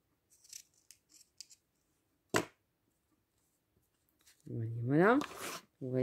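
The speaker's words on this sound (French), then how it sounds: "Je coupe." Scissors snip through recycled material while building a butterfly cage, a few short crisp cuts near and fairly faint, then one sharp louder snip, followed by a person talking.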